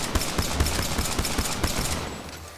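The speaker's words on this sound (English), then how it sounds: "I didn't know your pistol could shoot fireballs." A pistol fires fireball rounds in Apex Legends, a fast burst of about a dozen loud, close, evenly spaced shots that trails off into quieter rumble.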